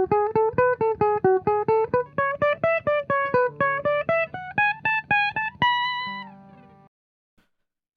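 Electric guitar alternate-picking run from the Waves break, a fast stream of single picked notes climbing in a repeating up-seven, down-three pattern, ending on a sustained ringing note that fades to silence.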